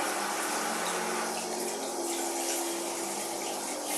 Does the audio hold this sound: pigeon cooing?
no